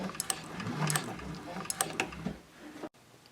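A sewing machine runs over a bag's binding, stitching back over earlier stitches and then backstitching. Its needle clatters in short mechanical bursts with brief pauses, close by, and it stops abruptly at the end.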